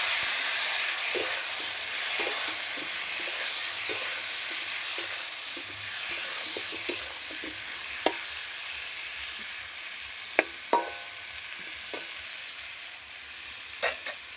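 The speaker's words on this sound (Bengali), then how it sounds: "ঝিঙাগুলো দিয়ে একটু ভেজে নেবো" Ridge gourd, added to fried potatoes, sizzles in a pan with a steady close hiss, while scattered spatula scrapes and a few sharp pops punctuate the frying; no speech is heard.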